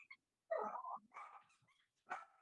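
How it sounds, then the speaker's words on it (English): A small over-stimulated Yorkie-poo barks several times in short bursts, close and loud, with quiet gaps between the barks and no talk. "That's a big boy. That's a big bark."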